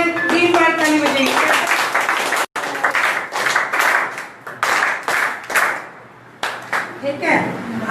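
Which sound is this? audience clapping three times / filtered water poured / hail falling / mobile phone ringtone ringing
audience clapping three times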